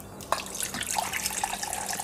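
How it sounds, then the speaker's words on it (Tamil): Water poured from a cup into thick rava dosa batter for a dry fruits and tomato dosa, a steady close splashing trickle running for a couple of seconds after a short pause. "இன்னும்னா அந்த கப்பாலேயே 1 கப் கிட்ட தண்ணி விடுறேன்"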